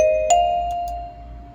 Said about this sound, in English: And that sounds like this, the vibraphone.